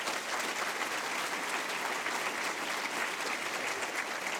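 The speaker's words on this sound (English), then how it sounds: "So give them a round of applause as well." Conference audience applauding steadily at the close of a panel session, dense even clapping from a large crowd throughout, no voices over it.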